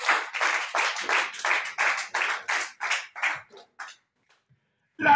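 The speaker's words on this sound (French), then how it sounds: "Applaudissez pour lui." Church congregation clapping in steady rhythmic unison, about a dozen loud, evenly spaced claps that slow and thin out, then stop into near silence before a brief sound at the end.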